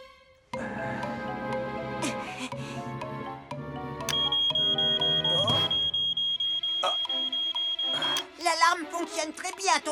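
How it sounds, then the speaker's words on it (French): A smoke alarm is tested in a cartoon fire-station scene. A steady, high electronic alarm tone sounds for several seconds over background music, with voices around it. "L'alarme fonctionne très bien, Tonton Sam."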